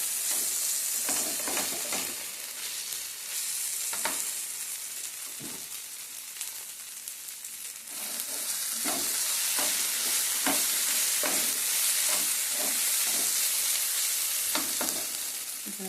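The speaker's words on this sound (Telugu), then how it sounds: "సరే, మొత్తం అంతా కలిపి ఒకసారి మళ్ళీ వేద్దాం" Mutton killi stirs and fries in a pan, a continuous close sizzle broken by repeated scraping and clattering spatula strokes at an irregular rhythm, with no talking.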